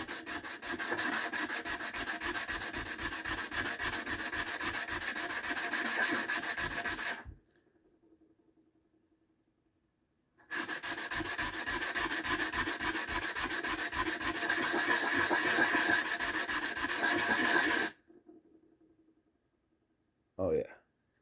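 Blue calcite gemstone being hand faceted, ground back and forth in two long bursts of steady rhythmic rasping strokes, close and loud, separated by a quiet pause, with a brief knock near the end.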